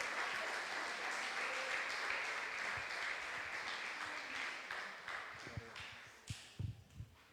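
A church congregation breaks into sustained applause, dense and steady at moderate distance, thinning toward the end as a few low thumps and scattered claps stand out.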